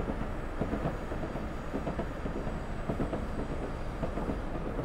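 A train in Train Simulator 20 on the West Highland Line extension near the viaduct rolls steadily away, a continuous low rumble with faint irregular wheel clicks, moderately loud and even throughout.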